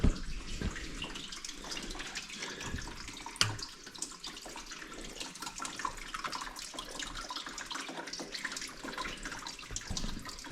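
Water flows and trickles on a VEVOR faceting machine, a continuous close splashing and running stream with small drips and a couple of sharp knocks, moderately quiet and without voices.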